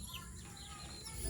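Faint clucking of chickens in the distance, scattered soft calls over a noisy outdoor background.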